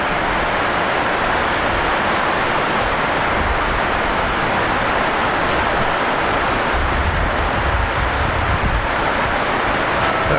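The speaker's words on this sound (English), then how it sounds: "That wind has seemed to have dropped off just a little bit" Strong wind buffeting at Brisbane Airport as cyclone conditions ease, a loud, continuous broadband roar of gusts across the microphone with no break throughout.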